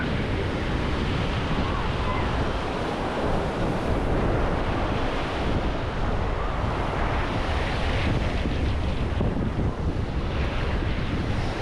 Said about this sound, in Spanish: Me quedo aquí grabando un poquito el mar.